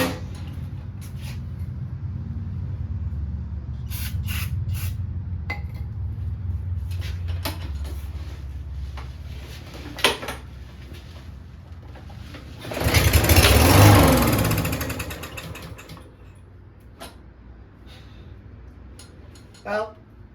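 A free lawn mower with a suspected dirty carburetor being pull-started, a steady low engine-like drone followed by a loud surge of sputtering and clatter, then quieter, all close by.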